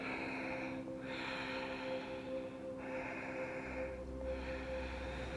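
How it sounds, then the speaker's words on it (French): Slow yoga breathing during a seated twist, with long drawn-out inhales and exhales in an unhurried rhythm, soft and close over a faint steady hum. "On respire."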